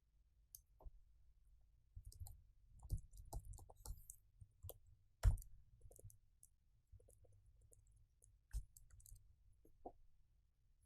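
Code being typed on a computer keyboard, quiet irregular key clicks in short bursts with pauses and one sharper louder tap, close and faint against a near-silent background.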